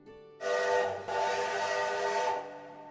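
A loud, sustained steam train whistle blows for about two seconds, starting abruptly and cutting off sharply, with faint rumble around it.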